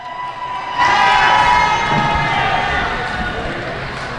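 A capacity crowd at a roller derby bout between Crime City Rollers and Rat City All Stars bursts into loud cheering and shouting after a quiet start, then stays steady and slowly eases off.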